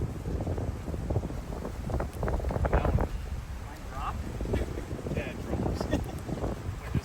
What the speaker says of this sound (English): wind is doing crazy things right now. It was so swirly.